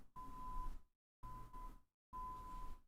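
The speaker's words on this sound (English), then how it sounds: "What is it even beeping for?" Electronic beeps sound in three separate bursts of steady tone over background noise from a device on a Los Angeles street, each lasting about half a second to a second with silent gaps between.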